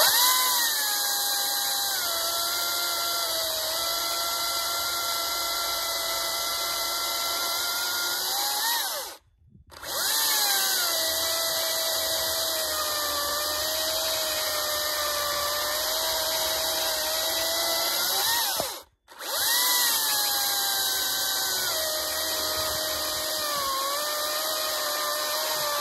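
Makita DUZ353Z cordless battery chainsaw cutting through dry spruce, a sustained high-pitched motor whine that shifts in pitch under load across three long cuts, each ending with a brief pause before the next.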